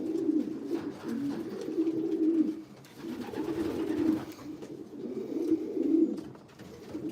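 Racing pigeons coo softly in a large aviary, their low, throaty calls repeating in a steady rhythm of swelling phrases. The sound is moderately close, with no voices over it.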